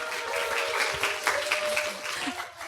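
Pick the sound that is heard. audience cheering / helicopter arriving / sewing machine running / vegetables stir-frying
audience cheering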